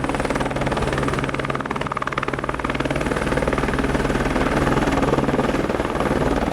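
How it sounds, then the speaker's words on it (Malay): A rescue helicopter flies over the Everest region, its rotor and engine thudding loud and steady through the whole stretch with no voices. "Aku melihat semakin banyak helikopter penyelamat di sini membawa pulang pendaki-pendaki"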